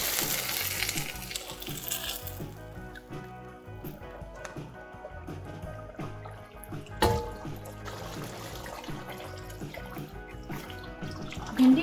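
Fried okra goes into a simmering meat curry with soft clinks, plops and a low bubbling sizzle, plus a sharper clatter midway; the sounds stay faint and close throughout.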